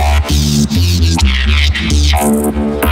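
Heavily distorted synth or bass tones pulse in a throbbing pattern, with a gritty, buzzing harshness across a narrow band of the sound, from a band-selective distortion plugin in FL Studio.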